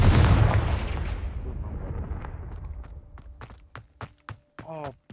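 A Confringo blasting spell in Hogwarts Legacy sets off a heavy, booming explosion that rumbles and fades away over a few seconds, followed by sparse, quieter footsteps and a short vocal sound.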